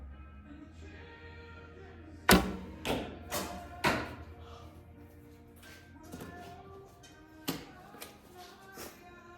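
Indoor longbow arrows striking a target: one sharp loud impact followed by a few quicker thuds and fainter later taps, in a quiet room with brief low talk.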